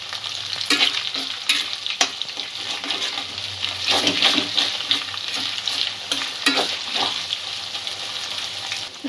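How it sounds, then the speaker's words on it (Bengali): Noodles deep-frying in hot oil crackle and sizzle steadily while a utensil stirs them in repeated strokes, close and continuous throughout. "এইভাবে নাড়তে থাকতে হবে। ক্রিস্পি করে ভেজে নিতে হবে।"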